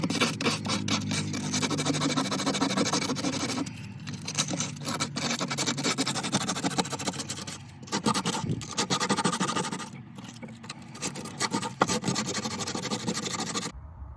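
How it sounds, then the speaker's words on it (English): Steady, continuous scratchy rasping of 40-grit sandpaper worked over rusty metal on an RSX car body, close and loud with only brief pauses in the strokes. "I've been hitting it with a 40 grit for a minute now on the left side"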